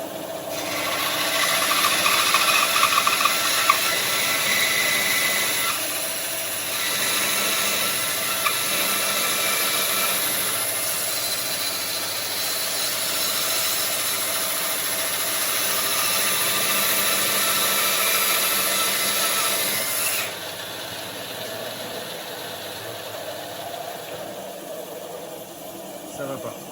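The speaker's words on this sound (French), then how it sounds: "j'avais prévu de déligner à la scie à ruban pour garder une épaisseur de plateau suffisante" A band saw rasps steadily, ripping through wood for a long stretch, a continuous gritty cutting noise that drops off near the end.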